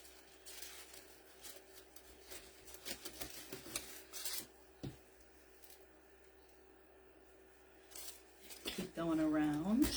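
Scattered snips of scissors or clippers cutting wreath stems in half, a run of short close clicks and crunches with pauses between, while a person talks nearby.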